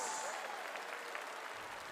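Crowd applause at a Ryukyu Golden Kings versus Gunma Crane Thunders B.League basketball game in Okinawa, cheering the game's MVP: steady, dense clapping filling the arena, continuous and fairly loud throughout.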